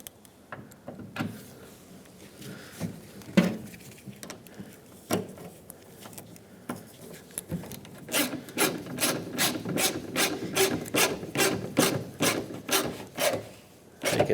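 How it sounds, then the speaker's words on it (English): Mounting screw being driven into the plastic housing of a 1997-2003 Ford F-150 taillight, with a rapid series of sharp ratcheting clicks building up in the second half after quieter scraping and handling noises. "Hold the taillight and put in your mounting screw."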